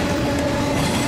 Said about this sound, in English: This is a ethanol train heading westbound out of Willard, with 2 Union Pacifics in the lead,